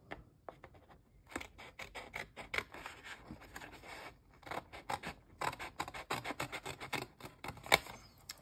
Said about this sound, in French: Et on va venir découper le reste du carré.